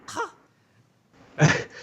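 A single rough cough bursts out after a short throaty sound, then quiet; close and fairly loud.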